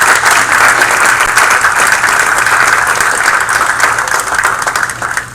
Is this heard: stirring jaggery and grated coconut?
no